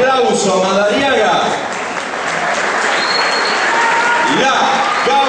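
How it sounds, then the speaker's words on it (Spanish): Audience at an anniversary celebration in Madariaga applauding to welcome a gaucho folk band, sustained clapping mixed with crowd noise and a voice talking over it. "Los recibimos con este aplauso, Madariaga."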